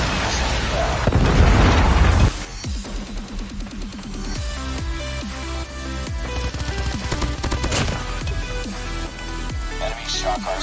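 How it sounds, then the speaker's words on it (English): A Predator missile strike in a Call of Duty multiplayer match: a loud, heavy explosion burst in the first two seconds, followed by a game soundtrack and scattered action sounds. "Friendly Predator missile inbound."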